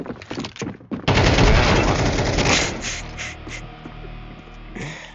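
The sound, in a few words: gunfire in the video game Counter-Strike 2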